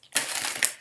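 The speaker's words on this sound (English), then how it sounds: "Sorry for the banging of the cards." A deck of tarot cards knocked against a table, giving a short, sharp papery crunch and clatter that swells quickly and ends in a louder final tap, close and with no voices.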